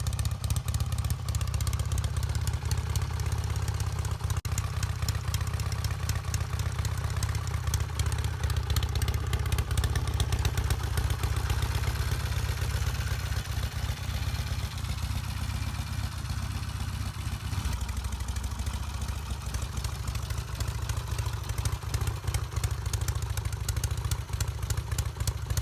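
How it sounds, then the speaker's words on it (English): A Norton Commando 850 motorcycle engine idles steadily and loudly up close, a continuous low throb with mechanical clatter running for the whole stretch with no talk. "let's just have a listen to the amazing sound of the 850 Commando"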